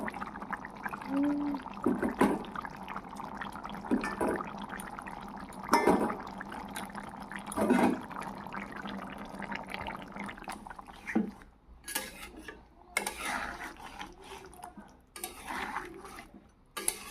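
Fish are added to boiled potatoes in a cooking pot, with soft splashes, scattered clinks of a utensil against the pot, and low bubbling liquid sounds, all fairly faint and irregular.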